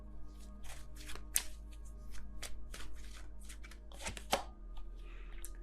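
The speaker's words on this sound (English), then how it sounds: "let me just get another card before I say that." Tarot cards are shuffled and handled up close, with quick papery riffles and soft slaps repeating in bursts over a low steady hum.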